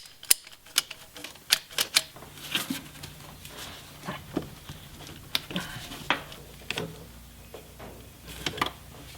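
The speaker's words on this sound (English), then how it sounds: "Now I'll just cut the other ends to length and put them where they belong." Hose ends being cut to length on a Jeep Cherokee cooling system conversion, heard as sharp irregular snips and clicks with handling noise between them, close by and moderately loud, no talking.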